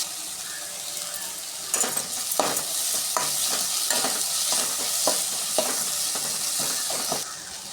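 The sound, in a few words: onion and tomato sautéing in a pan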